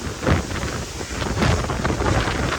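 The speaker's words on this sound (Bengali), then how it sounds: "বিশাল বাতাস," Strong Kalbaishakhi storm wind roars and buffets the microphone in loud continuous gusts, rising and falling with a low rumble and no voices.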